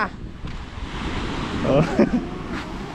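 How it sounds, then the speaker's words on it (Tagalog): Strong sea waves surge and wash near the shore by a cliff-diving spot on a clear-water island, a steady broadband roar with wind buffeting the microphone and a louder swell rising midway. "Lakas ng alon."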